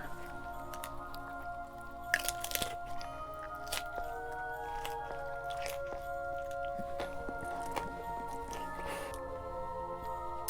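Someone bites into and chews a taco dressed with Yellowbird sauce, giving close, wet squishing and soft crunching in uneven bursts over a faint steady background hum.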